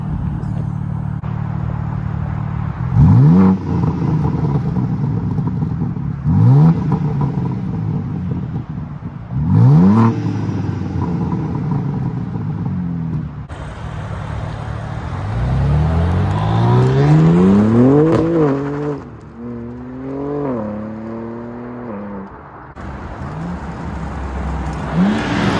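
A BMW M3 engine revs and accelerates repeatedly, loud sweeping pitch rises through several gears with brief lifts between pulls, heard close and continuous, with occasional voices beneath.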